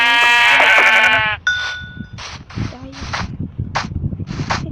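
Sheep in a survival video game give a loud, near bleat up front, followed by shorter bleating calls mixed with people talking.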